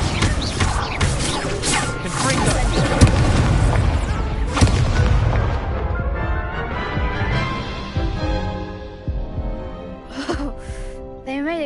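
A Confringo fire-blast spell in the Hogwarts Legacy game, loud booming impacts and crackling bursts in the first half that fade into a ringing tail, with a voice speaking over the noise.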